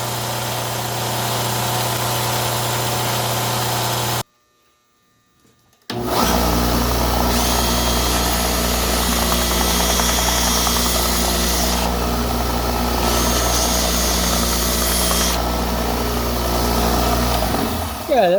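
Power sander running on a stainless steel skillet with a finer grit, a loud steady whine and grind that stops for about two seconds and then resumes continuously at close range.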